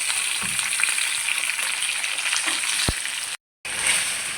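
Onions fry in a pan for gobhi gosht, a soft steady sizzle heard up close with a brief tap and a short dropout near the end.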